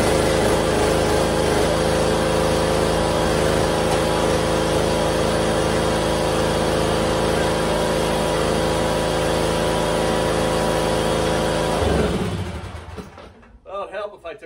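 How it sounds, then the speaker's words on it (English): A zero-turn lawn mower engine runs steadily and loudly for about twelve seconds, then cuts out and winds down, leaving near silence. "we're just gonna start the lawnmower and then just ease back and forth and let it bleed out"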